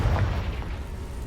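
Bombarda and Confringo spell explosion in Hogwarts Legacy: one deep, muffled boom at the start that fades into a low rumble, with no voices.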